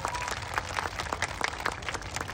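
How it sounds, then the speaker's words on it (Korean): A crowd at an outdoor book-plaza talk show gives applause, a quick patter of many hands clapping at moderate distance, fairly soft and steady for a couple of seconds. "여러분 예은 양에게 갓생을 살고 있는 예은 양에게 박수 한번 부탁드리겠습니다."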